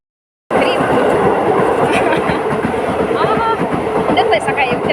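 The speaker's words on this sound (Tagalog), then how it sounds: "Tren." A train passing close by, starting abruptly with a loud continuous rumble and rattling clatter of the wagons. Scattered squeaks of the wheels ride on top, and a voice is heard against the noise.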